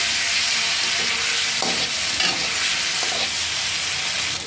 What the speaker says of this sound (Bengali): এবার আলুর সাথে ভালো করে কষিয়ে নেব জল দিয়ে দিয়ে